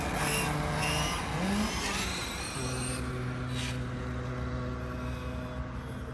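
A LADE88 S88R radio-controlled motorcycle engine revs on a track, a high buzzing whine that climbs in pitch, then settles into a steady drone, close and loud.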